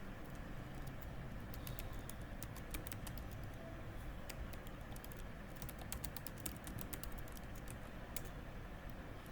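A git command is typed on a computer keyboard as scattered quick key clicks, faint and fairly close, set against a soft steady background hiss with no talking.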